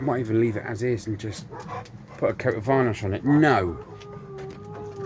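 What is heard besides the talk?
dog howling across the road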